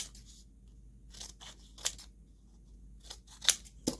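Scissors snip through a sheet of film in a run of short, crisp cuts, close and fairly quiet, with brief pauses between clusters of snips.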